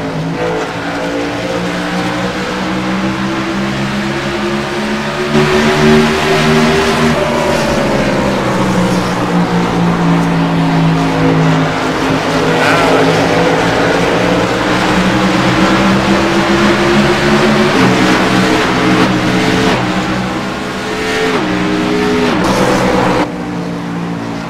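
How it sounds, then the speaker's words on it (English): Stock race cars racing at Phoenix, a loud, sustained roar of several engines passing and revving together, with pitch sweeping up and down as the cars run laps, close by and unbroken throughout. "SS's sound a lot different than the old A cars, that's for sure."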